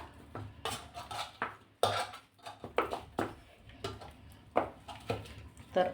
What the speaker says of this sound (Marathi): असा हा उकडलेला बटाटा आहे तो आपण बारीक करून घेत आहोत